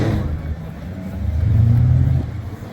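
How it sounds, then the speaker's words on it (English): A car's engine revs up through its exhaust at an import and performance car show, a loud, close roar swelling for about a second before dropping back. Crowd murmur carries underneath. "I could hear the exhaust, the exhausts from one of the other cars and everything"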